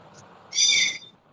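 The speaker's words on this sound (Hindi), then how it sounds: "ये किसी का तोता है?" A parrot near a lecture lets out one shrill, tonal squawk lasting about half a second, clear and fairly loud over low room noise.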